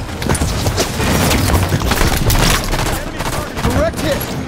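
Rapid bursts of laser gun fire in a fast-paced shooter video game, dense crackling volleys with booms layered over busy game noise.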